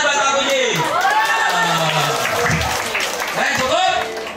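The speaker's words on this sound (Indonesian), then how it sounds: "Tepuk tangan buat Pak Puji" A crowd at a children's English camp claps and cheers for a teacher, with whoops and children's voices rising over the applause at fairly close range.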